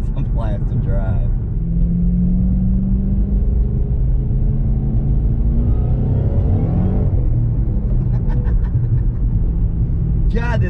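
A Ford GT500 engine rumbles steadily up close, swelling as the revs climb and the car accelerates, with a voice talking over the drone.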